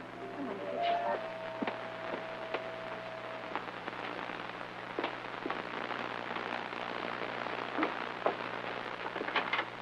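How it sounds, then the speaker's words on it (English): Steady rain patters on a surface throughout, with scattered drops ticking sharply and a brief tonal sound near the start. "It's raining at least"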